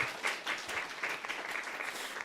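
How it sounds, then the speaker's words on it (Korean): A church congregation applauds together, a dense steady patter of many hands clapping for a couple of seconds, moderately loud with some room echo. "하나님께 박수를 한번 쳐드립시다"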